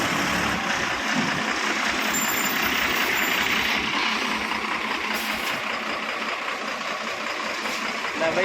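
A truck rolls up to a fuel pump, its engine idling and rumbling steadily with a hiss of air brakes and faint beeps, while people talk over it.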